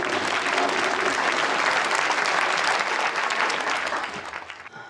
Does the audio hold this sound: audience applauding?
yes